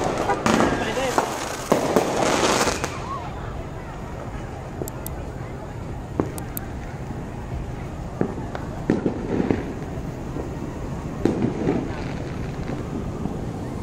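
Fireworks pop and crackle at a Fourth of July Independence Day celebration, with scattered bursts over constant wind noise and voices chatting nearby.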